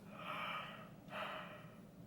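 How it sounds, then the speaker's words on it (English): A slow, breathy inhale followed by a drawn-out exhale, close and soft, like a quiet yawn with no speech. "I'm sorry I had to yawn"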